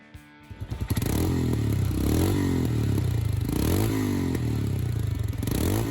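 A Royal Enfield Himalayan single-cylinder motorcycle engine starts with a few sputtering pops, then settles into a loud, thumping run with rising and falling revs, close by.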